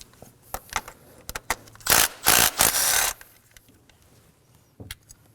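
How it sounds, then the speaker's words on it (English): A ratchet with a 10mm socket removing a bolt on a 2016-2020 Kia Sorento 2.4L engine, with quick close clicks and a few louder bursts of rapid ratcheting, no talk. "Using a 10mm socket, I'm going to remove the bolt."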